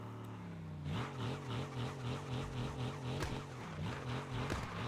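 Porsche 911 GT3 engine in Car Parking Multiplayer, a synthetic engine drone that rises as the car pulls away, then pulses in a steady wavering rhythm at moderate volume with no talking over it.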